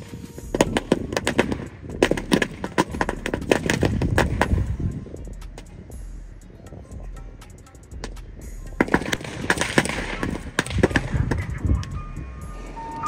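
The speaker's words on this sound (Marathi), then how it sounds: "तिकडे डायरेक्ट रावण फटाके फेकून मारतोय" Firecrackers burst in long rapid crackling volleys during a Narakasur effigy burning in Malvan, loud and close with dense staccato pops and a low rumble between bursts.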